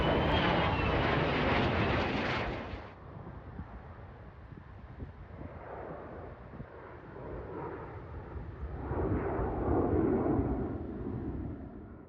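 Airplane engines roar loudly overhead at the AirVenture air show, the drone fading after a few seconds to a steady distant hum with wind buffeting, then swelling again as another aircraft passes.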